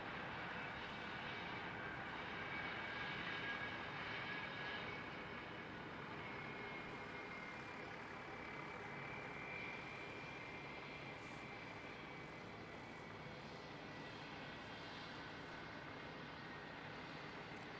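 Airliner on flight NZ539 from Auckland at Christchurch Airport in rain, a steady broad engine roar holding for the whole stretch, fairly distant and even, mixed with rain hiss and no talk.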